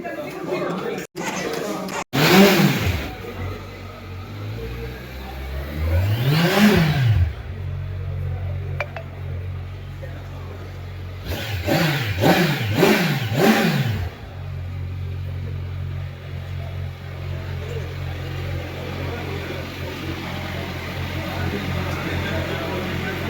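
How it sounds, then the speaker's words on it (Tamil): A Kawasaki Ninja 1100SX motorcycle idles close by and its exhaust is revved in several sharp blips, one single rise and fall and then a quick cluster of repeated revs, with people talking between them. "வாங்க இப்போ இந்த வண்டியோட எக்ஸாஸ்ட் கேட்கலாம்."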